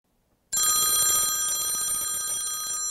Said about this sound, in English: the sound of your phone ringing might make you worry